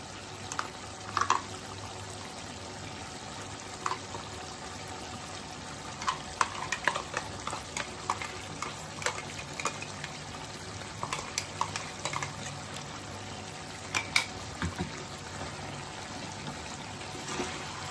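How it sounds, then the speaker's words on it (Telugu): Masala for a spicy Telangana-style chicken gravy curry bubbles and fries quietly in a pot, with scattered close clicks and scrapes of a spoon stirring it over a faint steady hiss. "దీన్ని కలుపుకొని ఒక 2 నిమిషాలు ఉడికించుకుందామండి"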